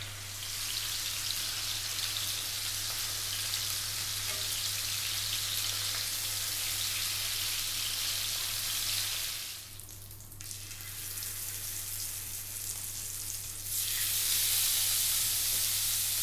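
Pieces of carp fish sizzle in a pan as they are sealed, a steady, loud frying hiss with a low hum beneath and a brief dip in the middle.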